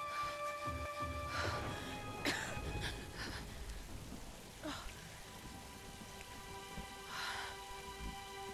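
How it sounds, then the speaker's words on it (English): Steady rain falls in the video game Tomb Raider, a soft continuous patter on surfaces with a few louder bursts and faint rumbles underneath, and no clear speech. "It's raining."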